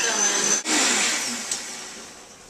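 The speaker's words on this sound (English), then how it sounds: "now I'm going to blend this all up" A high-powered blender whirs loudly as it blends an Irish moss mousse with milk, a steady motor roar with a brief cut-out before it surges back and slowly eases off.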